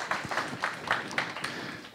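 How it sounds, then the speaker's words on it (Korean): Applause from a church congregation during a youth group worship service, a steady patter of many hands clapping at moderate loudness, continuing for a couple of seconds with a few louder bursts. "우리 청년부 우리 지체에게 다시 한 번 더 큰 박수 보내주세요"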